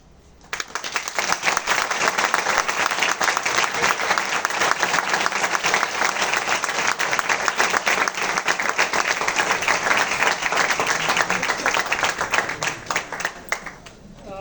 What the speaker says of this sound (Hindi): आप लोगों को पसंद आया, आपकी तालियों से अंदाजा हो रहा है।